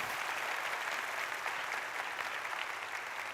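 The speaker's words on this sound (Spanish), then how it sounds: "dale a la palabra un aplauso, por favor" Steady applause from a church congregation during a sermon, a dense, even wash of many clapping hands heard from a distance and sustained without pause.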